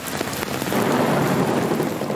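Heavy rain pours steadily in Rio de Janeiro, a dense, loud hiss of drops striking surfaces that stays continuous throughout, with no speech.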